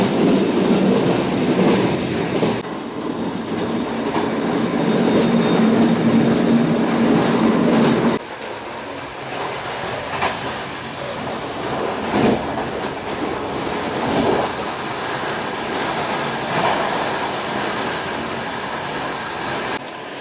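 A train in Portugal rumbles steadily along the rails, loud and close, with rhythmic clatter; the tone drops partway through as it passes a station, no voices present.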